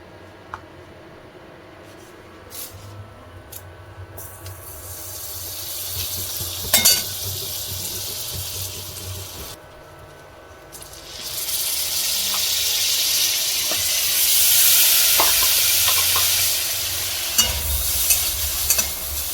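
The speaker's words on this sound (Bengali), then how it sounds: "এবার হচ্ছে এটা ভাজবো সামান্য বাটার দিয়ে ব্রোকলিটা" Broccoli fries in a little butter with a soft hiss, then swells into a louder, sustained sizzle. Occasional clicks and scrapes from stirring break through, and nobody talks.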